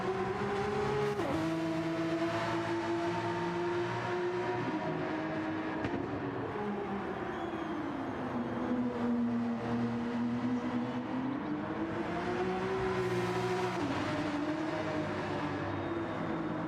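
Race car running endurance laps at Circuit de Spa-Francorchamps in Gran Turismo 7, with a loud, sustained engine note that rises and falls as it shifts gears for the whole stretch.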